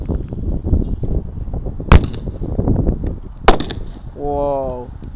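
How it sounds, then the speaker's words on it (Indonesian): A Gatot Kaca firecracker goes off inside a rat hole with two sharp, loud bangs a couple of seconds apart over steady outdoor background noise, followed by a brief tonal squeal. "Selanjutnya ini ada mercon Gatot Kaca bosku"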